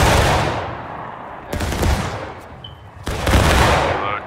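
Musket volleys fired by a Civil War reenactment line, loud, ragged, staggered blasts outdoors, each leaving a long rumbling decay, with a fresh volley of fire about every one and a half seconds.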